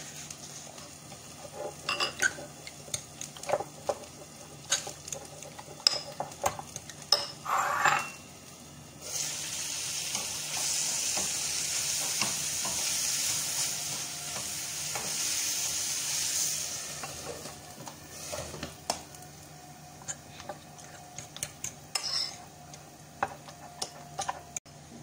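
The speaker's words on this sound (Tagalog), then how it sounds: "Paghaluin ko sila. Itlog at saka sardinas." Eggs and sardines are stirred together in a frying pan, with scattered utensil scrapes and ticks, then a sustained sizzling hiss in the middle, fairly faint and close, without talk.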